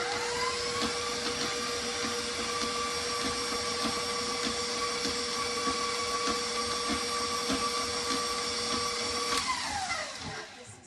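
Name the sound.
electric mixer creaming butter and sugar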